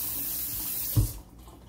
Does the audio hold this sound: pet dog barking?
no